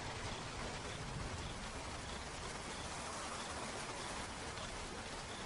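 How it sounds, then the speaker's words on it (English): Rain drops strike the ground in the Okavango Delta as the rainy season begins, a soft, uniform hiss of steady rainfall with no other sounds. "As soon as the drops hit the ground, the Okavango comes alive,"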